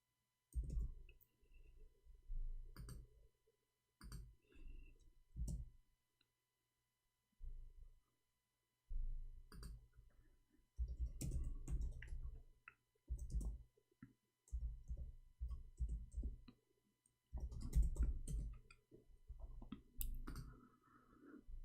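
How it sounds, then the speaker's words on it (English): Keys clatter on a computer keyboard while someone types in Arabic, coming in short irregular bursts of close, crisp clicks with brief pauses between runs. "I'm typing in Arabic all this time"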